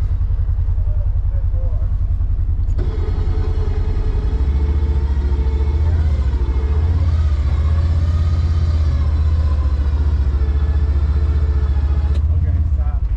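A Polaris Ranger 1000 side-by-side works to drive out of mud, its engine rumbling loudly and revving up after a few seconds, holding a strained drone before easing off near the end.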